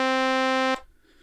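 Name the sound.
FM synth note with instant release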